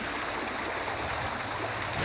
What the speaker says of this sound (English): Did you hear the sound of the water gushing